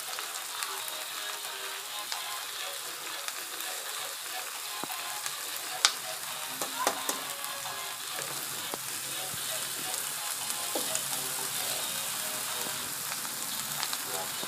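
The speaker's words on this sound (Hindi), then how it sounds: "इसी में मैं मेथी डाल दूंगी।" Fenugreek (methi) leaves sizzle in a pan with spices and red chilli powder for a potato-methi sabzi: a steady close crackling fry that runs throughout, with occasional light scrapes and clicks of stirring.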